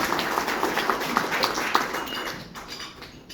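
An audience claps for a few seconds at a state representative campaign event, a dense patter of hands that thins out toward the end.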